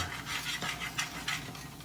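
A spoon scrapes and stirs a green bell pepper curry in a steel pan, giving a steady run of rough metallic rubbing strokes with several louder swipes at close range and no talking.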